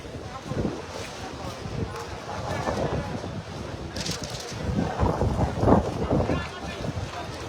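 Strong wind gusts across an outdoor cattle market, buffeting the microphone with steady rumbling noise that surges louder toward the end. A person talks under the wind.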